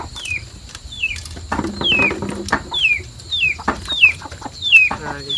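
A chicken repeats high, falling peeping calls at a steady pace, about eight in a row, close by over faint background noise.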